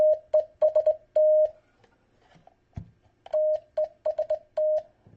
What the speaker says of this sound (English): the side tone you're hearing is coming out of the front speaker right now.